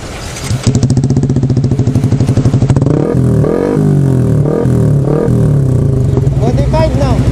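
A motorcycle engine with a modified exhaust idles with a rough, uneven putter, then revs loudly in several surging bursts, close by and harsh.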